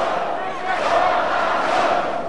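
Arena crowd at a Kwon A-sol versus Daisuke Nakamura fight cheering and chanting for Kwon A-sol, a loud, sustained roar of many voices filling the hall.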